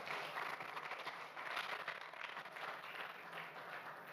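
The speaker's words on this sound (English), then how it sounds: "Let's clap for Kabera." An audience applauds at a public dialogue on education in Uganda, a steady wash of many hands clapping that holds for the whole stretch at a moderate, slightly distant level.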